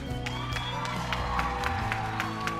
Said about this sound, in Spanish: ¡Aplausos para Hans!